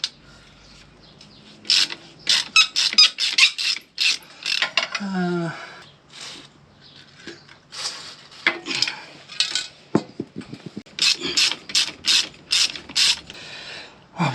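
A ratchet with a 13mm socket on a long extension undoes bash plate bolts on a CFMoto 450 motorbike. Bursts of close, fast clicking repeat with pauses between them, and metal parts clink now and then.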